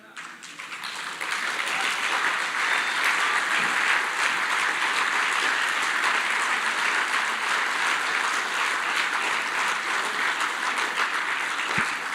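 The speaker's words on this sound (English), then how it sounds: "Let's stand up and clap for them once again." A standing audience at a matric top achievers awards ceremony applauds the class of 2022, the clapping swelling within the first second and then holding loud and dense for over ten seconds.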